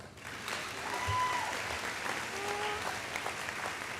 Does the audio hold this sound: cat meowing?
no